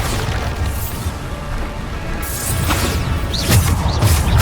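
Bombarda spell explosions in Hogwarts Legacy on PC, heard as loud, repeated booming blasts with whooshing crashes that build in force toward the end.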